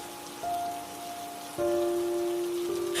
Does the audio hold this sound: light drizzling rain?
yes